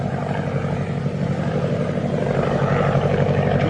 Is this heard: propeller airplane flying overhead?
yes